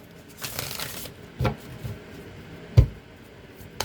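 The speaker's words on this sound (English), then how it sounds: "let's get a good shuffle" Tarot cards riffle and slap together in a few quick bursts, close up, with brief pauses between shuffles and no voices.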